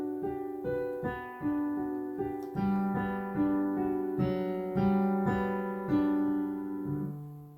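Piano playing a song in broken chords, four-note descending patterns repeated over changing chords with the sustain pedal held, so the notes ring together in a steady, flowing rhythm.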